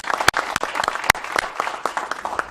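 A public hearing crowd applauds striking INSS employees, close, loud and continuous clapping with several sharp individual claps standing out.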